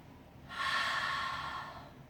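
A single long, breathy exhale during a held yoga stretch at a boxing gym, a soft airy rush swelling in after a half-second pause and fading slowly over more than a second, close to the mic with no talking.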